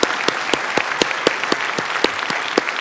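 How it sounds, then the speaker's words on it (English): At a scientific society's lecture, the audience gives a closing round of applause: loud, close claps with a few sharp, regularly spaced strikes standing out above the general clatter. "I'd like to have one more round of applause for Graeme and also for Paul."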